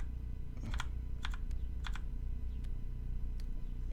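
Several quiet computer keyboard key presses while flipping cards in Tabletop Playground, four or five soft separate clicks spaced irregularly over a low steady hum.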